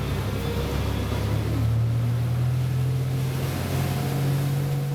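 Prestige 620S motor yacht cruising under power at about 1750 RPM and 18 knots, with a steady, loud engine drone and a rising hum over rushing water and wind noise.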